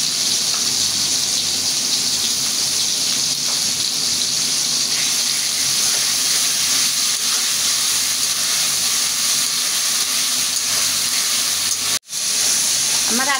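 Ginger garlic paste and tomato fry in a pan with a steady, close, even sizzling hiss that barely wavers, broken only by a brief cut near the end.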